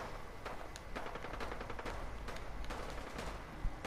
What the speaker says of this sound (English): Is that gunshots? Are those gunshots?